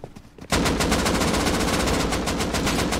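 Sustained automatic rifle fire in the survival game Rust, an AK-style weapon firing a loud, rapid, unbroken burst up close after a brief quieter moment.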